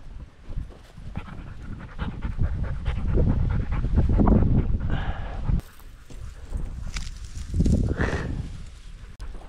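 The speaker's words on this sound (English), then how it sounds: "Now you look like a real hunting dog." A hunting dog on a pheasant hunt pants rapidly and audibly close by, rhythmic breaths continuing throughout with some rustling and movement underneath.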